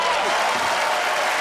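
Applause from a studio audience on a Christmas Day variety show, a dense even wash of clapping lasting about a second and a half without pause.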